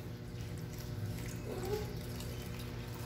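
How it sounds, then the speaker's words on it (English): Water poured from a tap or jug into a bowl of soy-based dry dog food, a steady close trickle and splash running for about three seconds with no talk. "You just add water to it."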